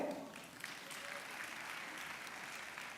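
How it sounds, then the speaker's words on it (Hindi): Audience applause at a live poetry recitation event, a steady wash of clapping heard at moderate distance, soft throughout, with a voice briefly over it at the start. "आपकी भरपूर तालियों में, बहुत ज्यादा तालियों में प्लीज मुझे hands together for Mujahid Hussain"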